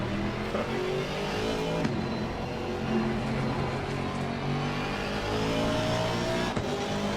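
A GT3 race car engine in the racing game Assetto Corsa Competizione roars continuously, its pitch climbing and dropping through gear changes with brief sharp blips on the downshifts.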